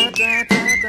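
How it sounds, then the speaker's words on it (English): A whistled tune carries a clear, steady high melody line over a pop song backing, lasting under a second. "Come on everybody and whistle this tune right now."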